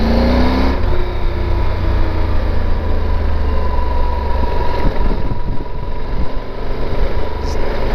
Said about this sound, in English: it's a police officer on a motorcycle from DC.